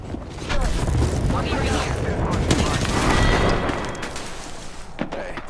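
Airstrike explosions and gunfire in a video game battle, a dense, continuous barrage of booms and crackling shots that swells and stays loud throughout, with a voice talking over it.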